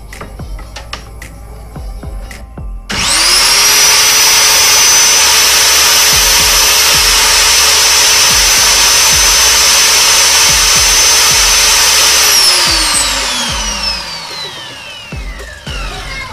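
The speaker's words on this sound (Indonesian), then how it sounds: "meter saw yang akan saya uji coba ini tanpa beban dan dengan beban" A miter saw spins up and runs without load, a loud, steady high-pitched whine holding for about nine seconds before winding down, with no one talking.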